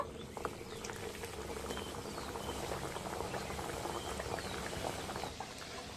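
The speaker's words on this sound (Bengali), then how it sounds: "এবার একে একে কচুরিগুলো ভেজে নেব।" Fish roe kochuri deep frying in hot oil in a kadai, a quiet, steady bubbling crackle with scattered tiny pops, continuous and low in level.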